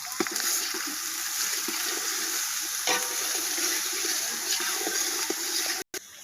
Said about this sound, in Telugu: అల్లం పేస్టు బాగా వేగాలి.